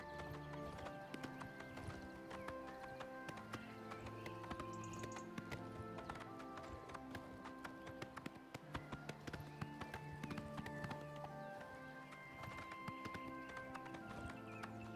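Steady clip-clop of horse hooves at a quick run, with an occasional whinny, over a continuous musical background, in the video game The Elder Scrolls IV: Oblivion Remastered.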